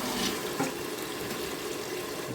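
Water pours in a steady broadband rush into a large pot of Dindigul-style basmati mutton biryani, close and continuous with a brief splash near the start and no voices.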